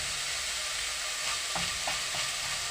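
Chopped onions sizzle in a pan for bolognese sauce, a constant hiss of frying with a few soft scrapes as they are stirred, close and steady throughout.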